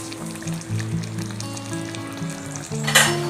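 Fish curry with parijat (night jasmine) flowers sizzling and being stirred in a pan on a gas stove, a constant loud frying hiss with a brief louder scrape near the end.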